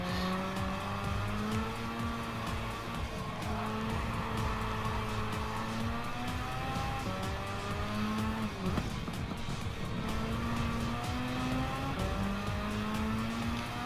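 A Mazda RX-7 racing in Gran Turismo 7, its rotary engine droning steadily and shifting pitch through gear changes, with tires squealing and skidding as the car understeers, loud and continuous.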